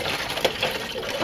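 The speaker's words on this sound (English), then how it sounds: "So I'm going to pour this back into the stop bath" Stop bath chemical for home black-and-white film developing being poured back into its container, a steady continuous liquid gush and splash heard close up, with no talking.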